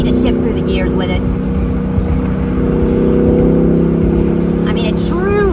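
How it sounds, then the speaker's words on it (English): Exhaust note of a 2017 Ford Mustang GT 5.0L V8 fastback while driving, a loud steady low rumble that runs throughout, with faint talk over it. "Sounds really nice. I'm loving the exhaust. It's just, man, it's a good sound."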